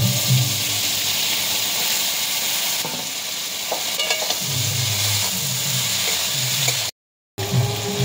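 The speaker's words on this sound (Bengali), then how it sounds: "এবার শাকটা দিয়ে দেবো।" Kulekhara greens hitting a hot pan of lightly oiled fried potato and eggplant, a loud steady sizzle and hiss with stirring scrapes, continuing for several seconds before a brief cut.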